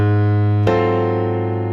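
Gospel piano chord, major triads voiced over a dominant seventh, sounding as a held chord that is restruck once and then rings and decays, loud and close with no voices.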